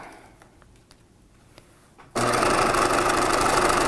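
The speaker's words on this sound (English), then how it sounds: "I'm just going to keep stitching until I get to the circle on the other side of the upper strap" A sewing machine stitches a 1950s dress, starting suddenly after quiet faint clicks and then running loud and close in a continuous dense whir.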